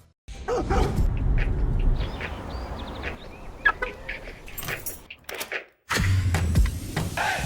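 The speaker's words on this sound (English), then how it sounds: "Who's that dog? It's Friendship Dog." A dog barking in a Toyota of Bristol car dealership commercial, a run of loud close yips and barks with whimpers and brief pauses, heard alone with no talk.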